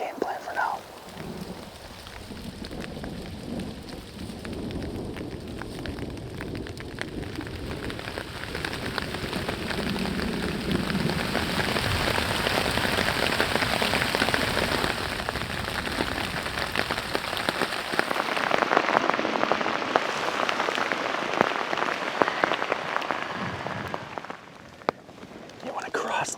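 Steady rain falls on an outdoor surface in deer country, a dense continuous patter that swells slightly over time while a voice whispers intermittently underneath.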